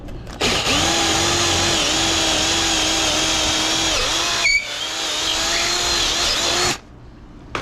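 Power drill boring a hole through a wooden trailer bunk on a combo kayak and flatboat trailer: one continuous loud whine lasting several seconds, a brief dip midway, then the motor stops and it falls quiet.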